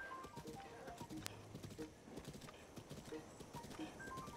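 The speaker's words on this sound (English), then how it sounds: "pull up my faster horse to go get this horse over here" A horse's hooves clip-clop in a steady galloping rhythm in The Legend of Zelda: Breath of the Wild on Master Mode, fairly quiet, with a brief neigh and faint in-game sounds.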